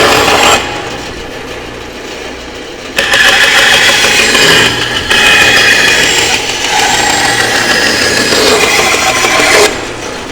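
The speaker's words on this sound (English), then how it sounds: "Okay, back at the bandsaw, we'll just make a bunch of cuts." Bandsaw cutting through a wood board, a loud close motor whine with rasping blade noise rising during the cuts, dropping briefly between passes.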